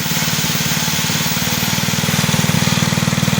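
A small Kirsch petrol generator engine runs loud and close, its rapid pulsing chug growing steadier and stronger.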